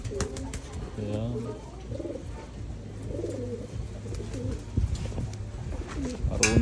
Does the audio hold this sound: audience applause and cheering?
no